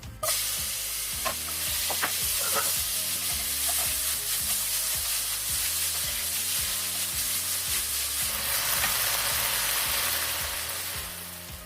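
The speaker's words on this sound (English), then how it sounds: "Heat up the pan and stir fry over high heat." Marinated bulgogi stir-fries in a hot pan over high heat, a loud continuous sizzle punctuated by regular scraping and tossing knocks of a utensil against the pan.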